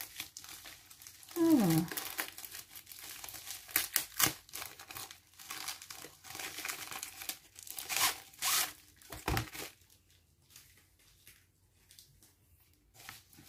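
An unboxing package being opened, with close crinkling and rustling of plastic wrapping in irregular bursts, and a few brief spoken words.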